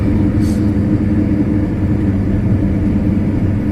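A car cruising in fifth gear on the Kovel–Lutsk–Dubno–Ternopil–Chernivtsi road, heard from inside as a steady, loud low rumble of engine and road noise that stays even throughout, with no one talking.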